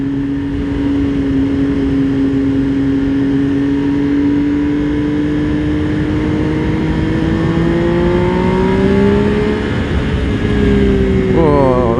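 A Benelli Tornado Tre 900 motorcycle's three-cylinder engine hums loudly and steadily, then its pitch climbs and wavers as it revs toward the end, with a voice speaking over it.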